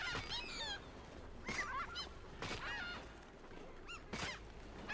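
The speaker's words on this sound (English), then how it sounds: "Oh, what the heck is wrong with y'all birds? Why y'all keep coming back?" Game birds in Halo 4 honk repeatedly in short, nasal, goose-like calls, several overlapping bursts close by against a low game-world background.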